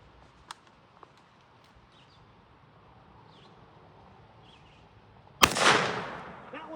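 A single loud, sharp gunshot from a Springfield trapdoor 1884 model rifle cracks out after a quiet stretch with faint clicks, its blast trailing off in a long, fading echo.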